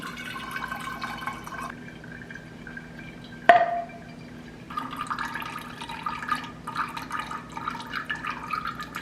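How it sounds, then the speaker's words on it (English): Liquid being strained into glass jars in a home kitchen, with a soft trickling pour, a sharp clink of glass partway through, then renewed gentle splashing and dripping. "I'm just gonna strain this into these glass jars"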